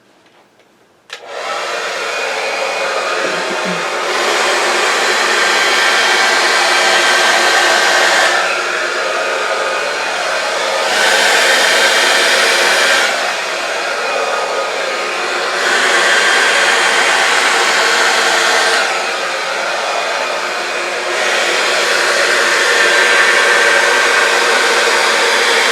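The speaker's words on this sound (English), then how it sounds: "I am going to grab my blow dryer" A hair dryer blows steadily and loudly up close over an acrylic pour painting, its airy roar pulsing in strength every few seconds as it moves, running continuously after a brief quiet start.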